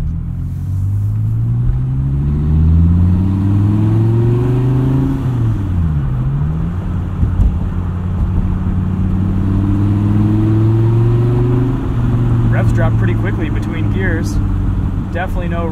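A 2015 Dodge Viper SRT's engine rumbles loud and close while driving on the street, pitch climbing through the revs, dropping at a shift and rising again, with a person talking over it.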